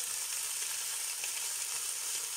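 Steady, close sizzling of veal browning in a hot frying pan, a continuous crackling hiss with no voices.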